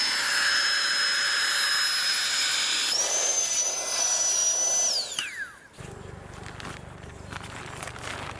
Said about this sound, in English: I'll put that in the bag here, and we'll use that to suck the air out.